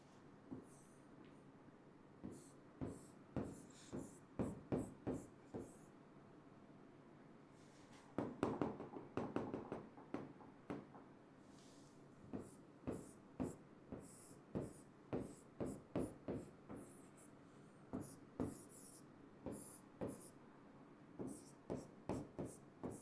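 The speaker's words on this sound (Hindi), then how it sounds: "यहाँ पास मैं ड्रॉ कर लेता हूँ अपना छोटा सा प्यारा सा लाइन और पैटर्न लिख देता हूँ आप लोग के लिए" A marker drawing lines and writing on a board during a maths lecture, with quiet repeated squeaky strokes coming in short bursts and pauses, close and fairly soft.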